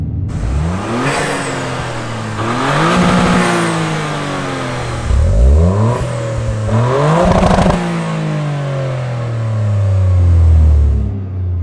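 A lowered Toyota GR Corolla is driven hard on a track, its engine revving up repeatedly in rising sweeps, dropping between shifts and climbing again, loud and close, with no voices.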